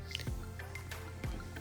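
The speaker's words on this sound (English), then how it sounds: "pour that golden mushroom in" Condensed golden mushroom soup sliding from a can into a crockpot with roast beef, a few soft wet plops and squelches, quiet and close, with no one speaking.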